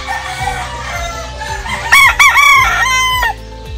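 A gamecock at a cockfighting conditioning area crows loudly and close by, one full crow that rises and breaks into several strained notes, with faint clucking and bird noise around it.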